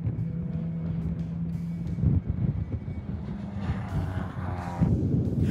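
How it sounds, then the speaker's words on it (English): A Mercedes 190E race car accelerating away during a circuit race, its engine a steady droning roar that rises toward the end, heard alone at a moderate distance. "Van Wijk is left to watch as the 190E accelerates away"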